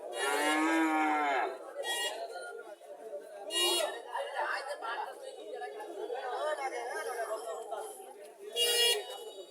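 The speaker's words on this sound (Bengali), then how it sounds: "বকনা বাছুর দেখা যাচ্ছে।" A Friesian heifer calf moos loudly and close at a busy cattle market, a long harmonic call opening the clip with shorter moos later, over steady crowd chatter and talk.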